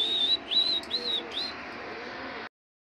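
Racing pigeons calling near a home loft as birds return, several short cooing and chirping calls in the first half followed by a quieter steady hum before sudden silence.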